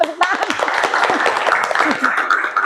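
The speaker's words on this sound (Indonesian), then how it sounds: "Tepuk tangan." Pupils in an English narrative-text classroom lesson clap briefly, a dense patter of hand claps mixed with chatter and a little laughter close by.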